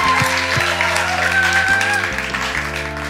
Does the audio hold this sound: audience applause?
yes